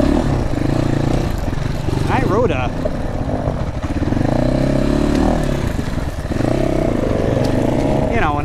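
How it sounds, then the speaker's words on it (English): A GPX FSE300r motorcycle engine revving and changing pitch under a rider's speech, with a few rising rev swells. "So far, really liking this FSE300 engine, man."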